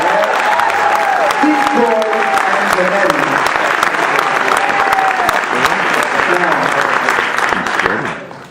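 An audience at a live Latin music concert in a college hall claps loudly and continuously, dense applause that fades at the end while someone speaks over it.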